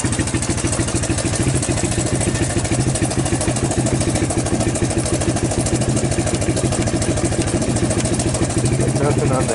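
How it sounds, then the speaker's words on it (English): A Suzuki LT230 ATV engine idles steadily and loudly up close, its rapid even pulsing topped by a ticking valve clatter that runs the whole time. "You guys hear the valve noise"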